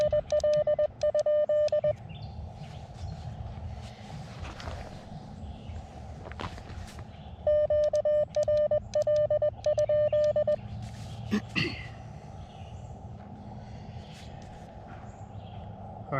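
Morse code side tone from an Elecraft KX2 radio, a steady pure beeping in quick dots and dashes that comes in two bursts at the start and middle, with faint rustling and handling noise in between.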